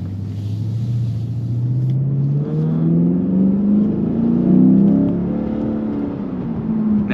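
A Lexus GS F in sport mode gives a deep engine rumble that climbs steadily in pitch as it accelerates, heard from inside the car, loud and continuous without talk.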